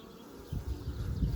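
Honeybees buzz at a nucleus hive during a nectar flow, a soft, close hum that swells after a quiet start and carries on steadily, with no talking.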